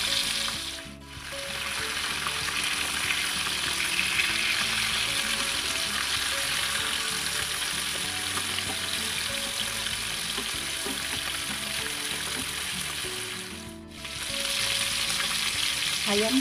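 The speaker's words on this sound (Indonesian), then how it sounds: "sekarang akan saya goreng ayam yang sudah saya marinasi tadi" Marinated chicken fries in hot oil with a steady, dense sizzle and crackle, close and continuous, briefly dipping twice.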